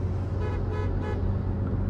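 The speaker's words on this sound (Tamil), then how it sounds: "எனக்கு ஹாரன் சவுண்ட் ரொம்ப பிடிச்சிருக்கு." Horn of an MG Hector sounding while driving on a road, a few short toots over steady low engine and road rumble heard from inside the car.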